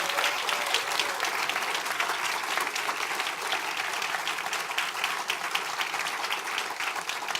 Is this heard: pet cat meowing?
no